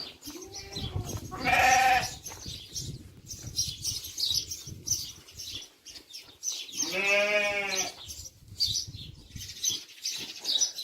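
Two clear bleats from sheep, including ewes and lambs, one early and a longer one later, stand out over soft rustling and background chirps.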